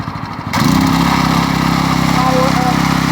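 A small pull-start engine catches and settles into a steady, loud idle with a rapid rhythmic chug, close by and running on its own after a brief quieter moment.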